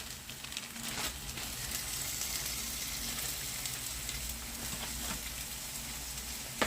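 Minced meat and carrots fry over high heat in a pot for a noodle soup. A soft, steady sizzle runs throughout, with a few faint clicks and a small knock at the end.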